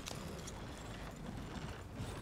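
Horse hooves clip-clopping at a steady gallop in the Red Dead Online western game, a dense continuous patter under faint ambient noise with no talk.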